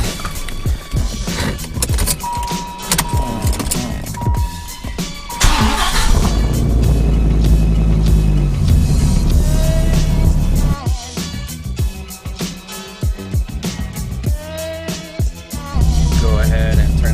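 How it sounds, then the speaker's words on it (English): A Dodge Viper's engine cranks and fires after an oil change, settling into a loud, rumbling idle up close with occasional blips, jangling keys and faint clatter around it. "let's go ahead and start the car"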